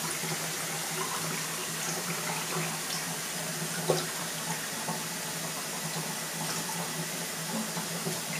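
Running tap water splashing steadily over an African grey parrot at bath time, a constant close hiss and patter with a few faint knocks and no voices.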